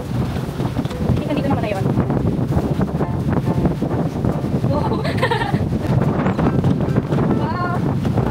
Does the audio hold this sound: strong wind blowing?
yes